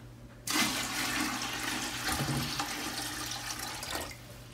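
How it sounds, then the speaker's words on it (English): About a gallon of water is poured into the top of a large gravity water filter system: a sudden, close rushing splash begins after a brief pause and continues as a steady gush for several seconds. "I'm going to add some water into the top here"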